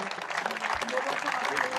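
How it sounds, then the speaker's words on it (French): Audience applause at a live evening event, dense steady clapping throughout, moderately loud with a broad crowd texture. "On peut l'applaudir bien fort, s'il vous plaît"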